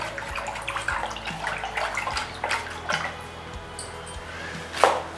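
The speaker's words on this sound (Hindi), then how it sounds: "पानी को अगेन हम रोटेट करेंगे।" Water swirled around inside a container for dipping painted stones, giving soft sloshing and splashing with faint drips and a small splash near the end. The sound is moderately quiet and close, with no speech.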